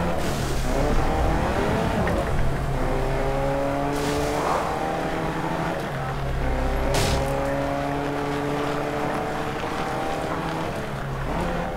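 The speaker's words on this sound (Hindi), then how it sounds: "मैं गड्डी लेके जा रहा हूँ, गड़ी लैम्बोर्गिनी पीले रंग की" A yellow Lamborghini driven in the video game Fortnite, its engine droning with rising and falling pitch as it accelerates and shifts, loud and continuous, with a couple of sharp noise bursts breaking in along the way.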